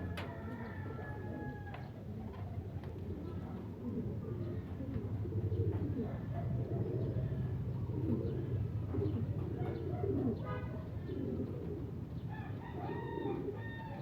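Several birds, likely racing pigeons, call over a steady outdoor hum, with cooing and a rooster-like crow among repeated chirps, moderately loud and continuous throughout.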